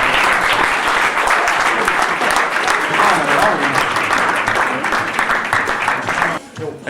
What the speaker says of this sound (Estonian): Teeme aplausi meie kaameramehile Võidupuu.